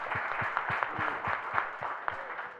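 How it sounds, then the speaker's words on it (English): A conference audience at a panel discussion claps in a fairly quiet, steady burst, individual hand claps distinct and evenly spaced throughout. "Let's just clap for that"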